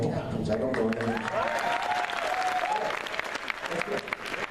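Applause from a Comicon panel audience, a sustained burst of many hands clapping that fills the room, with a speaker's voice carrying over the top partway through.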